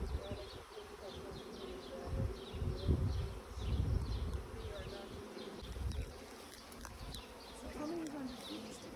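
Package honeybees, around four pounds and roughly 10,000 of them, buzzing during hive installation: a dense, continuous droning hum close by with individual bees whining past, plus faint distant bird cooing in the background.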